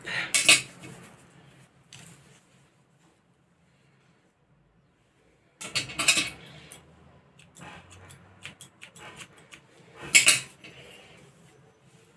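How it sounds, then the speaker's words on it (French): Scissors snip through hair during a home self-haircut, three short crisp bursts of cutting spaced several seconds apart, close and fairly quiet, with soft metallic clicks and near silence between them. "on les prend dans tous les sens et on coupe ce qui dépasse"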